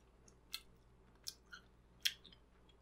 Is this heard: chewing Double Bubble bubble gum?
yes